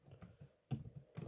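Computer keyboard typing in short clustered bursts of clicks, a few quick keystrokes at a time with brief pauses between, close and fairly quiet during a Korean English-grammar lesson.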